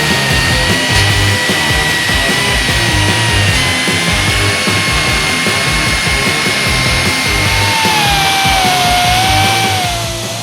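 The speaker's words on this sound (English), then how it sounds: "it just hooks up to your air tool. It's a little mini belt sander basically" Air-powered mini belt sander prepping steel tube for a sand car tube chassis, a steady high whine with a faint rising pitch near the end, running close and alone without talk.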